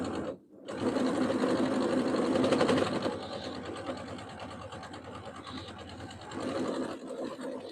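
A sewing machine stitches steadily in a loud, fast mechanical whir, pausing briefly near the start and easing in intensity partway through.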